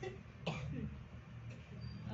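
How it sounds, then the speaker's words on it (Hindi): A single sharp cough bursts out, followed by a short throaty rasp, then a faint second cough against a quiet background. "आपको तो बड़ी खांसी रहती है"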